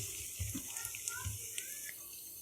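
Faint, steady hiss of roat biscuits frying in hot oil in a pan over low heat, with light crackles and pops scattered through.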